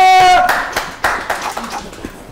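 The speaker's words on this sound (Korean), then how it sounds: "차분해진 느낌이라서 박수 한번" An audience at a live art exhibition event gives a short burst of clapping after a tonal note fades, the claps loud and close at first, then thinning into scattered, uneven hand claps.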